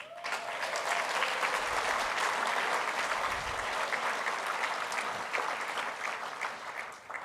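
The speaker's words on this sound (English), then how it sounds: "So please give yourselves a round of applause." An audience applauds itself at the EcoCAR EV Challenge Year 1 awards ceremony, giving a dense, continuous round of clapping that holds evenly for several seconds before tapering slightly.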